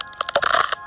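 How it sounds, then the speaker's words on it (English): A bone-breaking crunch effect from the video game Block Story: a quick cluster of sharp, crackling snaps stacked close together, loud and dry, with no talking over it. "Tell me if that sounds about like bones breaking."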